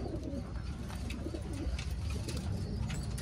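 Pigeons coo softly and repeatedly in a quiet, close setting, their low burbling calls overlapping against faint background noise.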